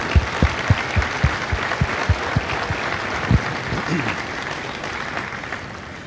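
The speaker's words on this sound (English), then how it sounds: "Give yourself a round of applause" Applause from the crowd at a Marine Corps recruit graduation ceremony at MCRD San Diego, heard as a sustained outdoor wash of clapping with a few sharp louder claps early on that gradually fades over about six seconds.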